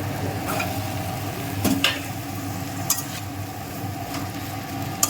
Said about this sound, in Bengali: আলুগুলো দিয়ে একটু কষাই করে নেবো